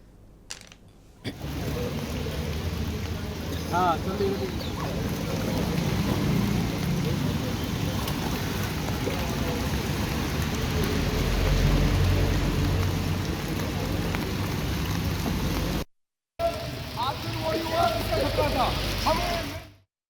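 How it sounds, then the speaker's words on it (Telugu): Heavy rain pours down steadily over Delhi in a dense, continuous hiss, with a brief cut near the end before the downpour resumes. "ఢిల్లీలో భారీ వర్షాలు కురుస్తున్నాయి."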